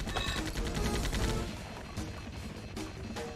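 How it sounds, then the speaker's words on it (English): Rapid gunfire from the video game XIII, aimed at a helicopter, comes as a dense loud burst of shots that thins into scattered reports with crashing game effects. "See how many shots I get in on the helichopper."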